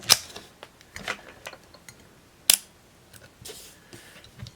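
A Rollei 35 film camera's shutter fires at 1/30 second, a crisp mechanical click with a sharp snap among lighter handling ticks, close and alone.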